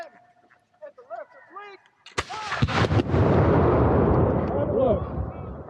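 Reenactors at an American Revolution Battle of Eutaw Springs event fire a musket volley: a sudden loud crackling burst of several near-simultaneous shots, then a rolling rumble that fades, with shouted commands and voices before and around it.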